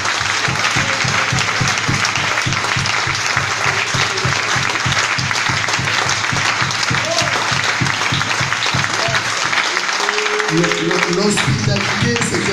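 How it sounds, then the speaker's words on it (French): A church congregation applauds loudly and steadily to acclaim the Lord, dense clapping filling the room with a rhythmic pulse underneath, while voices and some music rise near the end. "Est-ce qu'on peut acclamer le Seigneur?"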